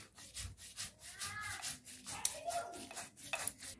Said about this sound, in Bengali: আমরা এদিকে মশলাটা বেটে পোস্তটা বেটে নেব